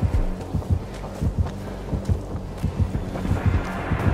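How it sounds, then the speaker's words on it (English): The killer's terror-radius heartbeat in the video game Dead by Daylight thumps as a steady, deep double-pulse rhythm, loud and close, repeating throughout over a low game ambience. "Why is the heartbeat so close already?"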